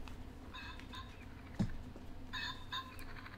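A stuffed plush toy bird gives off a few short electronic clucking chirps, small and fairly quiet against a light room hum.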